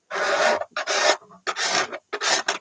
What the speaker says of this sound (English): We're using a special curve scraper